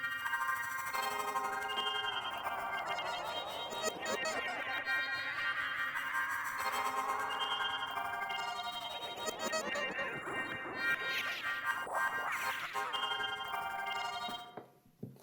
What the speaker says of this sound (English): So the grain delay is very cool to use as an insert effect too.